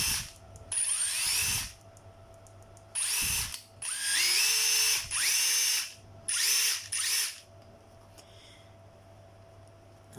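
A Hitachi cordless battery drill, a used Japanese unit, whirs up in several close, loud bursts of a few seconds each, separated by short quiet pauses.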